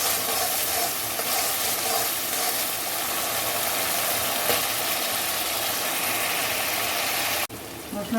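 Spice masala sautéing in oil for a chital fish kalia, a continuous close sizzle and crackle with faint stirring, cutting abruptly to a quieter room near the end.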